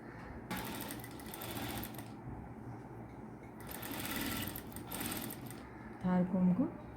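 An electric sewing machine stitches lace onto a dupatta's folded edge, running in two steady whirring stretches with a short pause between, fairly quiet, followed by a brief murmur at the end.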